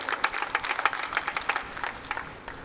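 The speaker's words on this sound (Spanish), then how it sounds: "dale fuertes palmas al Señor" A church congregation claps during a Spanish-language sermon, a lively patter of many hands with a few sharper individual claps, fading slightly toward the end.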